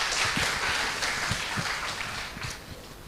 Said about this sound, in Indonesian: Boleh kita beri tepuk tangan yang meriah?